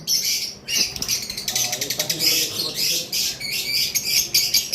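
A pair of par blue lovebirds giving rapid, harsh squawks and chirps in bursts, close and loud, with a person talking underneath.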